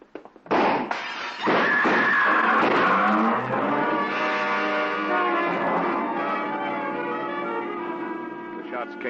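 A double-parked car sound effect in an old-time radio drama: an engine roars up suddenly, then a sustained tonal whine and screech slowly fades, loud and alone.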